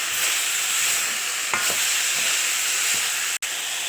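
Food frying in a pan with salt and pepper for basmati rice with vegetables and chicken, a loud close sizzle with a few scraping stirs and a brief clunk near the end, no talking.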